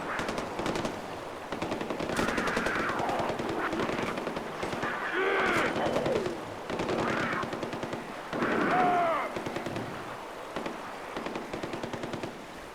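Rapid machine-gun bursts fire in a Far Cry 4 game, several rattling volleys with short pauses between them and a faint voice underneath.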